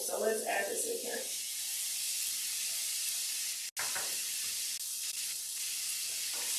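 Plant-based vegan ingredients cooking down in a pan give a steady, close hiss of sizzling throughout, with a short break midway and a voice speaking briefly at the start.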